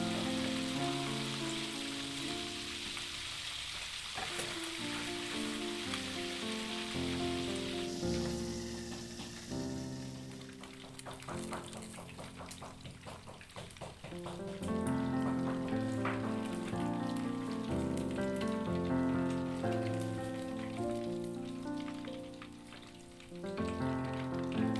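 Seasoned chicken that was boiled first fries briefly in hot oil in a home kitchen. A steady, soft crackling sizzle runs throughout, partly masked by louder background music.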